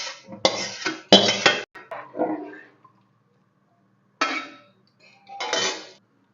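Fried red lentils are poured from a pan into a cooking pot in several separate bursts of rattling and scraping, close and fairly loud, with short silent gaps between them.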